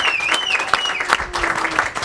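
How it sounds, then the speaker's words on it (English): Podcast audience applauds for the guests, a moderate burst of clapping with faint whistle-like tones sliding over it, fairly close and lasting about two seconds. "Can we give them a round of applause?"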